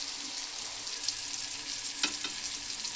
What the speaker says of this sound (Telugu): వీటిని ఫ్రై చేసుకోవాలి ఫ్రెండ్స్